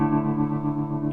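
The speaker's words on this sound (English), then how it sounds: "really heavy on the effect. So reverb, you can hear the tremolo as well." Sustained guitar chord drenched in heavy reverb with a tremolo effect and slight distortion, a thick ringing wash that holds steadily at even loudness throughout.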